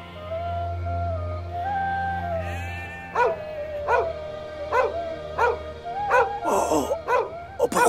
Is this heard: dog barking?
yes